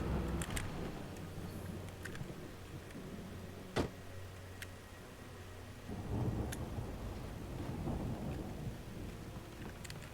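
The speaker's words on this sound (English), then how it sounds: "that storm we all felt coming is finally here" Thunderstorm with rain in the video game Alan Wake: steady rain, a sharp thunder crack near the middle, then a heavier rolling rumble of thunder toward the end, with no talk.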